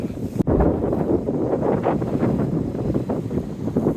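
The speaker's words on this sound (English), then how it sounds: "It is pretty blowy here." Strong wind buffets the microphone on an exposed island shore, a continuous roaring rumble with gusty surges and a sharp knock near the start, loud and close with no talking.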